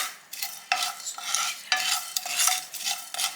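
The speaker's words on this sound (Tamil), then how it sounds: "இது எல்லாத்தையும் சேர்த்து ட்ரை பண்ணி ட்ரையாக வறுக்கணும்" Chicken and curry leaves dry-roasting in a pan without oil, stirred in bursts that give repeated scraping, rustling strokes, close and fairly loud, with no talk.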